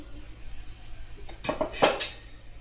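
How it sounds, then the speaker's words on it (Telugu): A cooking pan is set down and handled on a stovetop before oil is added for a moringa dal fry tempering, giving a few close metallic clanks and clinks in a quick cluster with no talk. "ఇప్పుడు ఒక ప్యాన్ తీసుకుని దానిలో కొద్దిగా ఆయిల్ పోసి"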